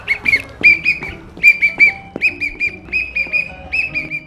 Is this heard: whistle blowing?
yes